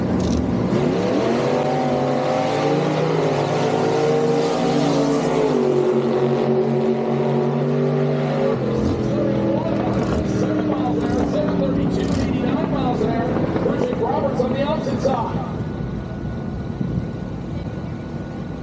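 A gasser hot rod drag car runs loud and steady for several seconds, its engine tone shifting in pitch before giving way to a rougher, fluctuating roar, with a commentator talking over it throughout.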